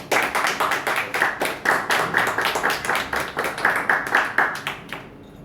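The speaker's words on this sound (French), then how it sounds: "je crois qu'on peut vous applaudir." Audience applause at a formal French ceremony, steady dense hand clapping that fills the room at a constant level, then fades out abruptly near the end.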